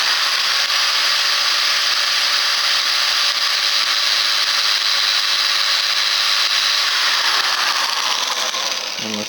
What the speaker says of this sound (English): I'm going to be using a kind of a Dremel today, it's just, I kind of press down on it and just kind of let it go through